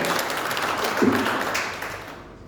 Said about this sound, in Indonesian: Kita tepuk tangan untuk Bapak Ibu dan Tuhan kita yang dahsyat.